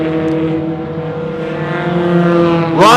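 Race cars at a round of the Track Attack Australia series run down the back straight, a steady layered engine drone held at high revs, swelling toward a sharp louder burst of a car passing close at the end.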